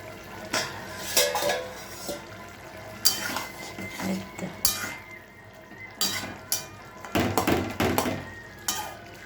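A lid comes off a pot of Bengali mourala fish curry with potatoes, clattering against the metal in several sharp knocks and scrapes. Close-up sounds stand over a soft sizzle with no speech.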